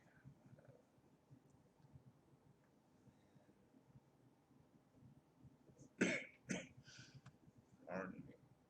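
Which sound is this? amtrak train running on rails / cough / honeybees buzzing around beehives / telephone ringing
cough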